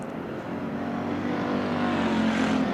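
Dirt track race cars roar around Bakersfield Speedway in a sustained, building engine drone, the pack growing louder as cars push through the turns with no talk over it.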